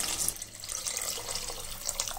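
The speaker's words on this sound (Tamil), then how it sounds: "இப்போ நம்ம தேவையான அளவு தண்ணி ஊற்றிக்கலாம்." Water pours steadily into a pot of home-cooked chicken biryani, a continuous close splashing rush with no voices.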